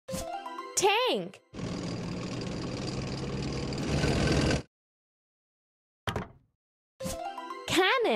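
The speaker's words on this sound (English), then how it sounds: "Tank." A tank in a kids' transport video game gives off a rough, rumbling engine noise for about three seconds. Chirpy voice-like game sounds come before it, and a short thud and more chirps follow.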